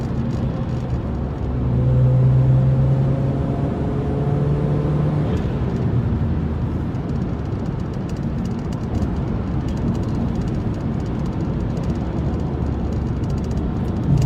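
Minivan cruising on the interstate, a steady broadband road and engine drone heard from inside the cabin, with a low hum rising slightly early on and holding constant throughout.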